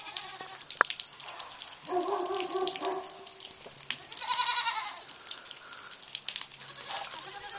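Goats on a creamery farm bleat repeatedly, expecting to be fed, with several overlapping calls at close to middle distance over steady background noise and no talking.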